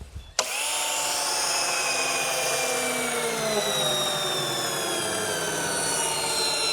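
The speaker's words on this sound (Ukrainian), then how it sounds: "як літак сідає" After a brief thump, a loud, sustained high-pitched whine sets in as an airplane lands: a jet-like roar holding steady throughout, whistling tones slowly shifting.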